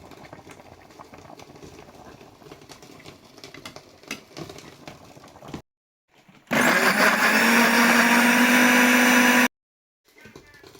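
A blender crushes cooked onions and chili peppers for an Ivorian sauce graine, running loud and steady for about three seconds after a pause, with quieter kitchen sounds before it.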